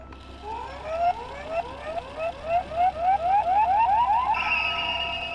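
A Kamen Rider Kuuga Arcle toy transformation belt plays a loud electronic effect for Dragon Form: a series of rising warbling sweeps that speed up, ending on a sustained high tone.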